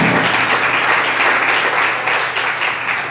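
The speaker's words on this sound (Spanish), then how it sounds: "Aplausos al Espíritu por el gloria de su hermano." Loud, sustained applause from a church congregation at a Pentecostal deliverance seminar fills about three seconds, a dense, steady wash of clapping with no voices on top.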